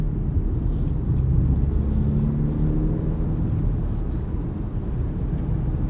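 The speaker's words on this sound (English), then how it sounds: "Engine is nice and quiet. You can hear a little bit of turbo noise in light throttle applications." A 2025 BMW X3 30 xDrive drives under light throttle, its engine a low, steady cabin rumble mixed with road noise and a faint turbo whine, continuous and subdued with no talking.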